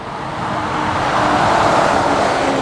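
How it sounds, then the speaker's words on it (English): A classic Ford Capri drives past at a car meet at Combermere, its engine a steady rumble that swells as it nears, heard over general road noise with no talking. "That's one great sounding Ford Capri."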